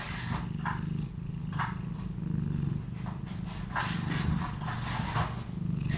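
Close, steady purring with a pulsing low rumble that rises and falls in regular breaths, a cat or kitten among young kittens at night, with no voices.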